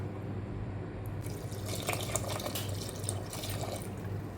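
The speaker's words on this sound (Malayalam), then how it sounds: "കുറച്ചും കൂടെ നമുക്കൊന്ന് വെള്ളം ഒഴിച്ച് കൊടുക്കാം" Water pours into a cooking pot while making Onam sadhya sambar, a steady splashing, trickling stream close by with a brief brighter burst midway, no talk.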